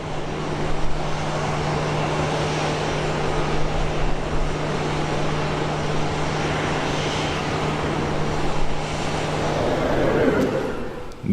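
Southwest Airlines flight 1167 departing Phoenix, a steady loud jet engine roar with a constant low hum, continuous and unbroken throughout.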